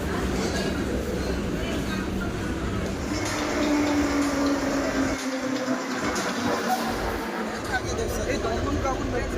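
Kolkata metro train near Maidan station, a loud continuous rumble and rail roar filling the whole stretch, with a brief steady tone in the middle and a faint murmur of people beneath.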